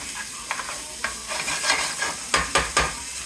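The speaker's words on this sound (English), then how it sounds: "Now, I'm cooking Papa Bear's favorite. You know he loves pork chops." Pork chops sizzling in a pan, close and fairly loud, with repeated scraping and stirring strokes bursting over the constant fry, several quick knocks clustered near the end.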